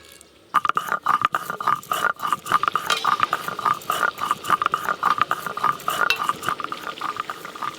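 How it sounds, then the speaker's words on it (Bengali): Whole garam masala being ground on a traditional grinding stone, a near, busy run of scraping and knocking strokes with sharp clicks, steady and repetitive for several seconds with no talking. "গরম মশলা বেটে নিচ্ছি, গোটা গরম মশলা"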